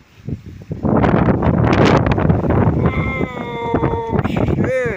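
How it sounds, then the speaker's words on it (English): Strong gusts buffet the microphone with a roaring, rustling rush while a tent fabric flaps and fills with wind at close range; a squealing, creaking tone rises partway through. "Look at my tent, kind of jellyfishing. It's doing the whole filling up with wind."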